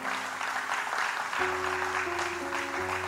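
A church congregation applauds, a steady wash of many hands clapping together at a moderate distance, with a sustained organ or keyboard tone entering partway through.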